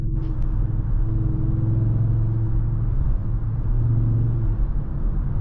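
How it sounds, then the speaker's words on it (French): An Audi RS3 Sportback drives with a steady, loud engine rumble heard from inside, a continuous low drone with a faint crackle early on. Distinct exhaust pops are not clearly separated. "Vous pouvez entendre les bruits secs sur le tuyau d'échappement."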